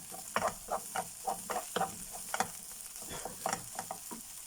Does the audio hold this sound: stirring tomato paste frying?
yes